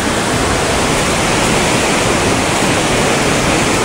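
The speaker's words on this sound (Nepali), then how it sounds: "यहाँ चाहिँ खोला रहेछ" A river rushes along a mountain trail toward Dhaulagiri Base Camp, a dense, steady roar of water that fills the whole clip without a break, loud and close.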